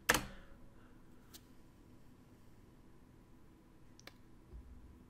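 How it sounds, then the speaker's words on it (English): One sharp keyboard spacebar click snaps loudly at the start, followed by near silence with a couple of faint ticks. "What did I hit spacebar for?"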